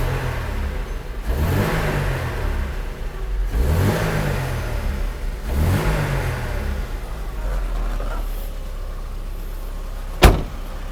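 A Mercedes W123 230E with a freshly overhauled fuel system runs nearby, its engine swelling through three rising revs before settling into a steady idle, with a sharp click near the end.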